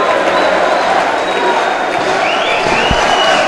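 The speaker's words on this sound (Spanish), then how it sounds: "salió todo el plantel a recibir los aplausos de la hinchada" Basketball fans inside the arena after Boca Juniors versus San Lorenzo applaud and cheer the squad, a thick continuous wash of clapping and crowd noise with a voice talking over it.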